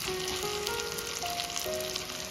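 Thinly sliced okra pieces fry in plenty of hot oil, giving a continuous bright sizzle with a faint steady tonal hum underneath.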